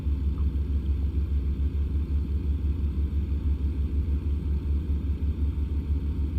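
A big truck engine in American Truck Simulator drones in a deep, steady low rumble, held constant at high revs and close, with no talking.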